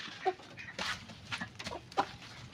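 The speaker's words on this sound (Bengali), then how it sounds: "এদিকে আছে আমার কক মুরগি" Scattered short clucks from chickens in a farmyard, a few sharp calls standing out over low background noise.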